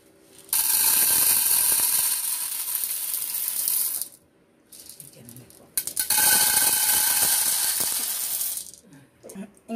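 Roasted coffee beans ground by hand in a manual grinder in a home kitchen in El Salvador, a loud steady gritty crunching and ratcheting that runs for several seconds, pauses briefly, then resumes at full strength.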